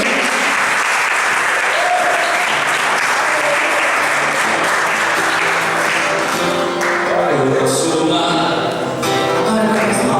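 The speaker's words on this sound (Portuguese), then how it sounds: "Aplauda o Senhor." A church congregation applauds in praise, sustained, dense clapping filling the sanctuary for about ten seconds, with a few voices and faint music tones rising near the end.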